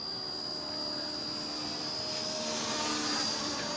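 Small K170 Black Hawk UH-60L RC helicopter hovering outdoors, a steady high-pitched rotor and motor whine with a thin tonal hum, constant and moderately near, gradually swelling slightly.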